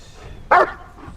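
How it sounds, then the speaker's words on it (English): A German Shepherd gives a single loud, close bark during obedience training, in an otherwise quiet moment. "So this is Joel and his dog, Big Black."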